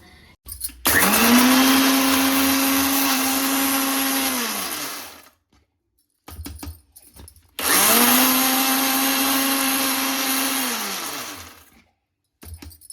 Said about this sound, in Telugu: మిక్సీ పట్టేసినాం కదా, ఇంట్లోనే బాస్మతి రైస్ ఇవి వేసేసుకున్నాము